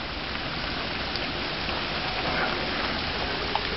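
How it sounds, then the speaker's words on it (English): Steady rain falls during a rainstorm, a dense, continuous patter and hiss of drops on surfaces close by, with a few louder individual splashes and no talking. "But it is a rainy day."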